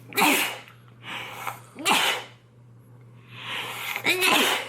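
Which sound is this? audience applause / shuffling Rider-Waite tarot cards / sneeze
sneeze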